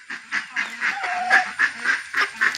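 Domestic ducks kept at home quack in a steady series of short, fairly close calls, about ten across the stretch, with no talking.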